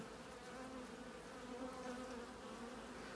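Honeybees buzz steadily and faintly in an opened hive during re-queening and splitting, a continuous droning hum with no pauses.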